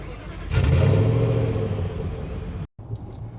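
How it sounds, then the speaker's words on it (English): A 2022 Nissan Titan Pro-4X pickup's engine starts with a brief crank, then catches and revs loudly before settling into a steady idle, recorded close with no talking. "let's fire her up, see what she sounds like."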